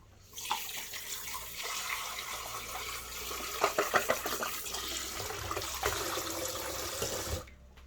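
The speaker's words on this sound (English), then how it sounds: "Actually, I'm gonna wash it out again just in case." A food processor bowl gets washed under a running kitchen tap, a steady rushing splash of water that rises and falls as the bowl moves through the stream, close and continuous with no talk.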